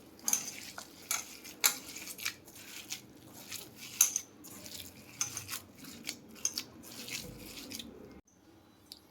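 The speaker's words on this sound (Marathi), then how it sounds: "छानपैकी मिक्स करून घ्या एकत्र. आता हातानं करणे गरजेचं आहे मिक्स." Ambadi leaf vegetable dish mixed together by hand in a metal vessel, giving repeated soft squelching, scraping and clinking sounds in an irregular rhythm, close and fairly quiet, ending in near silence.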